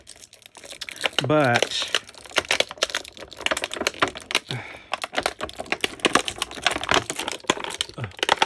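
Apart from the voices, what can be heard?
crinkling of plastic packaging while unboxing a toy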